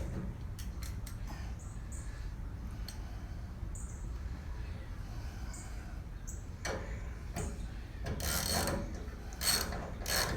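A ratchet clicks in short bursts while tightening the fuel filler neck on a Ford Ranger, faint and close over a steady background hum, with a few louder scraping sounds near the end.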